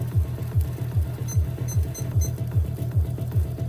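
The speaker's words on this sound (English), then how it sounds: "Let me set my timer." A kitchen timer is set for cooking instant noodles and beeps in a steady, rapid rhythm of short electronic pulses, close and clear, with a few faint clicks in between.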